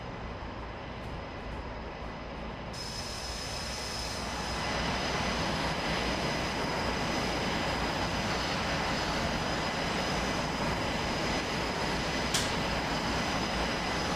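Engine 2 of an F/A-18 Hornet jet spooling up in the DCS World flight simulator, a steady broadband roar with a thin high whine that swells slightly and then holds, constant and moderately loud.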